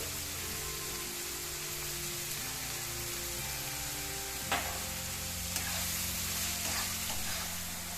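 Sliced onions frying in a pan for a Bezawada-style prawn and egg curry, a steady, close sizzling hiss over a low hum, with a couple of sharp clicks partway through.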